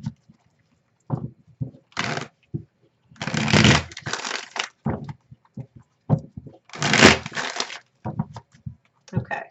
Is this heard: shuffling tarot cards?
yes